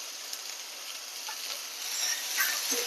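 Ridge gourd sizzling in a pan with turmeric and salt, a steady close hiss of frying with faint stirring scrapes and no talk.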